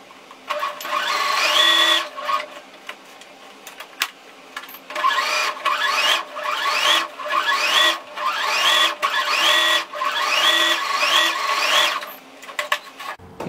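A sewing machine stitches around a doubled-fabric paw piece in repeated bursts of fast rhythmic clatter, each run lasting a second or two and separated by short pauses, close and clear with no talking.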